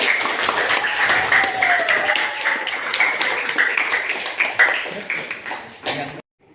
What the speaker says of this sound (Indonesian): Beri aplaus buat kelompok 2.